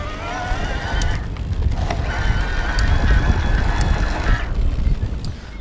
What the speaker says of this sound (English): You can hear the motor activating, and you can see that chainring spinning.